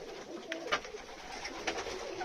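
Young pigeons from an old loft cooing softly, a few faint low coos and small wing or body rustles against a quiet background, with no speech.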